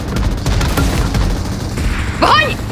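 Gunfire rattles in the battle game PUBG: dense, rapid shots crackle loudly and steadily, with a brief higher-pitched sound near the end.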